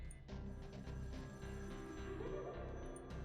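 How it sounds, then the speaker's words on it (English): A telephone rings in the video game Shivers 2, its electronic bell tone sitting under a continuous musical score that fills the low end throughout. "the phone is ringing"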